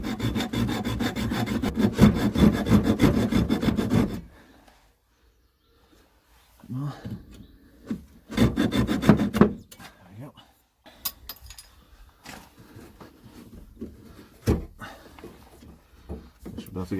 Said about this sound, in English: that Jubilee clip's really corroded, so I'll just hacksaw it